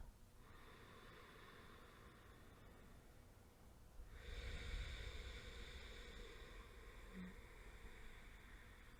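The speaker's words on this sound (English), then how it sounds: "Listen now to the sound of your breath." Slow, deep breathing during a gentle yoga meditation class: soft, airy breaths, faint and close, swelling into a fuller, longer exhale partway through, with no talking.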